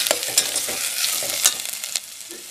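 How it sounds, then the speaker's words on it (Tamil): Ginger and other ingredients sizzling and crackling as they sauté in a hot pan for a Kerala-style tamarind curry, with scraping stirs and light clinks of a utensil, close and steady. "கொஞ்ச நேரம் நல்லா வதங்கட்டும்"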